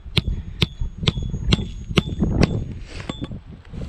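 Roof rafter being nailed during a DIY roof repair, a hammer driving a nail with about nine sharp, evenly spaced blows, each ringing briefly over low background rumble.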